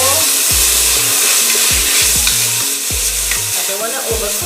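Seasoning sizzles loudly in a frying pan for a seafood cook-down, a steady bright hiss with repeated low thumps and scrapes as it is stirred.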